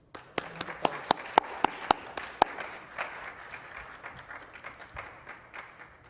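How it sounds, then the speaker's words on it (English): Clapping for healthcare workers at an event: a few distinct, fairly close hand claps ring out in an even rhythm at first, then blend into a softer, scattered round of applause that fades. "a round of applause for all of our healthcare workers"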